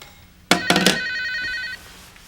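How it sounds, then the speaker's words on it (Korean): A telephone rings at night: two sharp electronic bell bursts in quick succession followed by a sustained trill lasting about a second, loud and close in a quiet room, with no talking. "아니 이 밤중에 웬 전화야?"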